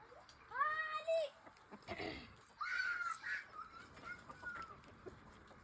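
Chickens clucking and calling nearby in short bursts, with some background voices and rustling.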